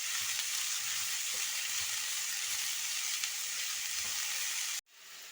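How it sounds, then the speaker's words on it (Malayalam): Chopped onion, garlic and green chili sautéing in a pan for beef curry, a dense continuous sizzle close up with soft stirring scrapes underneath, steady throughout before cutting off abruptly near the end. "ഇത് അരിഞ്ഞത് ഇട്ട് നല്ലതുപോലെ വഴറ്റിയെടുക്കണം"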